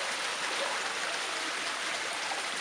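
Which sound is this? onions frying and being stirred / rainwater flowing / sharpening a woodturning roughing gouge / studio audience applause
rainwater flowing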